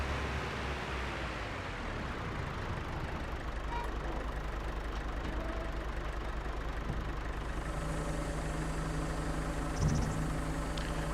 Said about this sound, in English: So, this tractor only has 50 horsepower